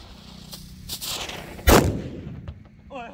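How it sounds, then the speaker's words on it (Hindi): A Diwali anar fountain firecracker of the Myur Coke brand is lit outdoors, giving a loud crackling burst and then a hissing spray that fades, with a few fainter pops and a voice briefly heard at the end. "वैसे इनके म्यूर कोक ब्रांड के सारे अनार वाले बम होते हैं, अब ये देखते हैं कैसे जलता है।"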